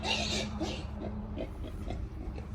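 Pigs oinking in a short run of close grunts and snorts, several bursts over a low steady hum, with no talk.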